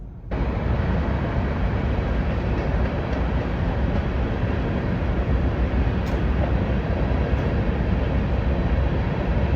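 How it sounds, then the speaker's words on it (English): A long train rolls steadily past, a dense, continuous roar of wheels and cars at close range, loud and unbroken throughout with no voices. "It takes a train 3 minutes to go by."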